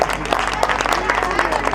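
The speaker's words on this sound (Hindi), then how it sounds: "एक बार जोरदार ताली बजाए तो अपने अपने लिए।" A crowd at a Tara Rani katha gathering claps in dense, steady applause, loud and close, with a few voices mixed in underneath.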